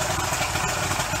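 A boat's engine idles just after a cold start following winter storage, a dense, steady, rumbling chug with a constant level and no voices.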